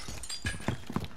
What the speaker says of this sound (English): You just broke glass?